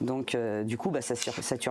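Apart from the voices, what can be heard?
No everyday noise stands out behind the speech.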